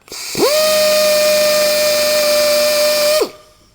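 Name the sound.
power tool grinding down damaged car bumper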